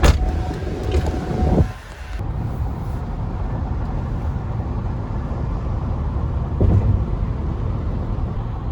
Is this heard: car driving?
yes